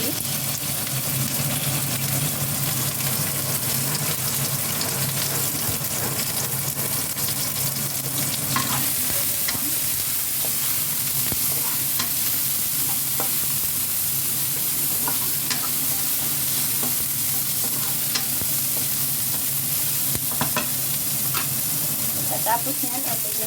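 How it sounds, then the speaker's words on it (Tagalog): Salmon fries in a pan with shallots, giving a steady, close sizzle with occasional crackles and faint scraping of a utensil over the pan throughout. "So, ilagay na natin ang ating salmon fish."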